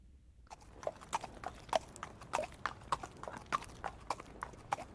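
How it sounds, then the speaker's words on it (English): A horse's hooves clip-clop on a hard surface in a steady walking rhythm, about a dozen crisp knocks, fairly quiet and close, with no voices. "Horse."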